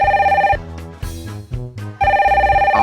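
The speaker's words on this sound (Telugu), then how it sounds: "ఎవరో ఫోన్ చేస్తున్నట్టున్నారు" A telephone rings in an animated children's serial: a loud, steady electronic ring pattern at the start, broken by a few separate thuds, then the ringing resumes.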